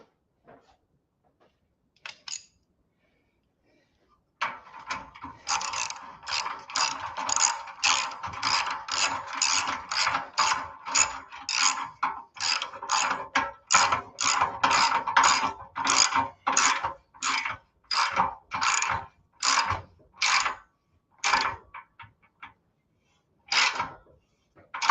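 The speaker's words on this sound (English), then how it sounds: "the last muffler clamp needs to get tightened up" A ratchet tightens a muffler clamp on a Harley-Davidson motorcycle, producing a long run of close, crisp, evenly spaced clicking strokes in a quiet shop, preceded by a few faint taps.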